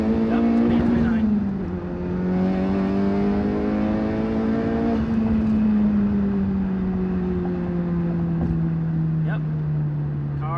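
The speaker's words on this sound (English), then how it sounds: "I'm gonna see if the car makes boost now. Yep, definitely making boost." A turbocharged 2017+ Honda Civic Type R (FK8) engine with a big PRL P600 V2 turbo revs hard and climbs in pitch under boost, a loud steady drone with a turbo edge that rises, dips, then pulls again.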